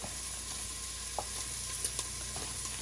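Zuppa Toscana ingredients sizzle steadily in a pan, with occasional soft clinks and scrapes of stirring over a constant frying hiss, no one speaking.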